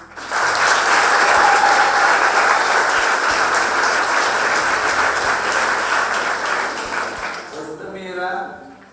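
Loud, dense applause fills a school year opening ceremony, building quickly and holding strong before tapering off, with a voice speaking over the tail end.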